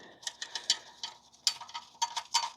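A hand ratchet spins a bolt out of a motorcycle exhaust on a 450SS during a slip-on install, giving several quick bursts of close, crisp clicking with short pauses between.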